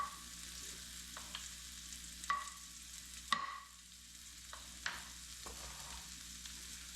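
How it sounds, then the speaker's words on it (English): Bacon frying in a pan over low-medium heat, giving a soft, steady sizzle with a few sharper pops and clinks of a utensil stirring, fairly quiet and close. "First, we're going to cook off the bacon. You want this on a low to medium heat."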